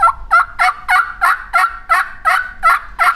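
A turkey call works out a hen yelp, about ten evenly spaced raspy notes starting slower and quickening, loud and close with nothing else over it.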